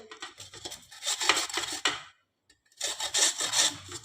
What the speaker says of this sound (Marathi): आता आपल्याला हे बटाटे या किसणीने किसून घ्यायचे आहे